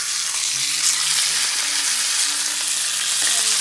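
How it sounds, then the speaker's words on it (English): Steady, loud sizzling of steak searing in a hot pan, a continuous crackling hiss with no pauses. "Steak is getting seared."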